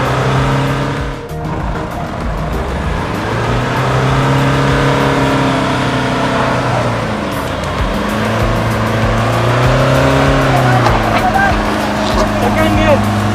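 A Tata Harrier 140PS SUV stuck in mud off-road revs its engine in sustained, rising and falling strains, loud and close, while people talk and shout over it.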